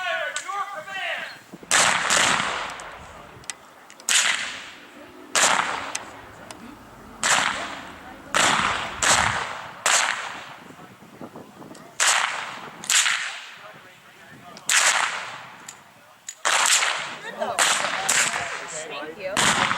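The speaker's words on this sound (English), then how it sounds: "Instructors, you may make your weapons hot and commence fire at your command." Gunfire on an outdoor shooting range at a women's shooting event, with sharp, loud cracks recurring every second or so, each trailing into a short echo.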